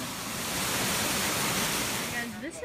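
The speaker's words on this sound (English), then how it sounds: "This whole creek is flowing into like an underground cavern or something." A creek at Plitvice Lakes, Croatia, pours into an underground cavern, giving a steady, dense rush of water that stays loud and even throughout.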